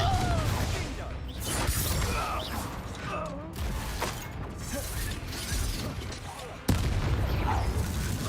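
Confringo fire-blast spell cast in a Harry Potter video game, a dense, chaotic run of crackling impacts, mechanical clatter and shattering bursts with a sharp hit near the end, loud and continuous.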